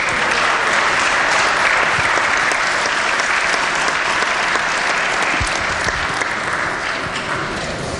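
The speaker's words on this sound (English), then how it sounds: "If we could stand and give them a round of applause for traveling all the way down here" A round of applause from delegates standing in a state legislature chamber, broad and sustained clapping from many people filling the whole stretch, steady and fairly loud without talk.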